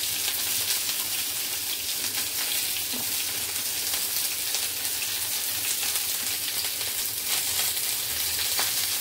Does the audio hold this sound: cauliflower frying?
yes